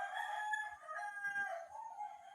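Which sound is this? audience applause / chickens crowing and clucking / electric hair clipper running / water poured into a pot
chickens crowing and clucking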